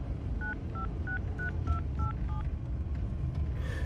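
A telephone number is tapped out on a keypad in a German radio crime drama, seven or eight short touch-tone beeps in an even rhythm over a low background rumble, fairly close and clear.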